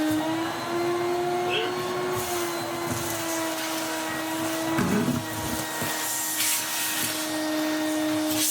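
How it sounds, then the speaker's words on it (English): A Numatic MV200 vacuum cleaner runs with a steady, close motor whine while sucking up dirt, and a person talks faintly over the drone. "And now we can make the MV200 om nom nom this dirt."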